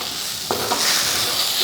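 A spoon stirs a curry mixture with a pinch of roasted ground asafoetida for ridge gourd dal curry, giving a quick scrape over a constant sizzle in a short burst with no voices.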